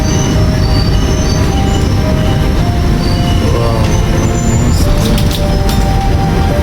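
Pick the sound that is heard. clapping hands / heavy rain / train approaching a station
train approaching a station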